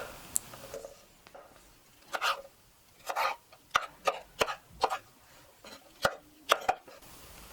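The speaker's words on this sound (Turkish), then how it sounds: "Kuşbaşı et büyüklüğünde doğruyoruz." A knife chops vegetables into meat-sized cubes on a board for a hearty regional Turkish stew: sharp, close knocks come singly and in quick clusters, separated by short pauses, with no talking.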